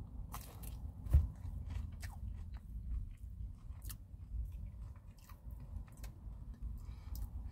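Biting into a McDonald's chicken nugget dipped in sweet and spicy sauce gives a sharp crunch, followed by close, soft chewing and squishy mouth sounds for several seconds.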